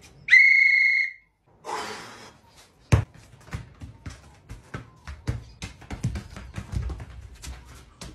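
A referee's whistle gives one sharp, loud blast at a school interclass futsal match, followed by the thuds of a bouncing ball and scuffing footsteps on the court.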